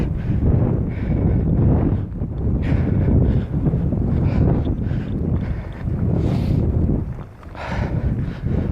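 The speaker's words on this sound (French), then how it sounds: "Il y a beaucoup de vent dans la forêt, un truc de ouf." Strong wind in a forest roars and buffets the microphone in continuous gusts, loud and close, with a few faint higher rustles passing through.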